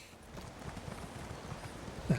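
Horse hooves clip-clop at a quick, regular pace in the Elder Scrolls Online game, the footfalls moderately close and fairly soft.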